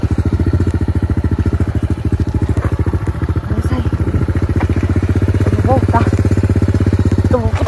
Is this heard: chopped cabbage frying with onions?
no